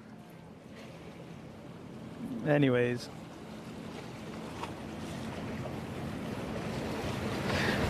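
A boat rides the water at Haulover Inlet on the Fourth of July, a low, continuous wash of waves and wind buffeting the microphone, with a brief spoken word near the start.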